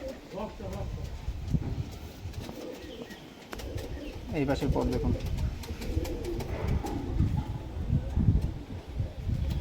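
Racing pigeons coo in low, throaty bursts close by, layered with rustling and flapping, while someone talks over them throughout.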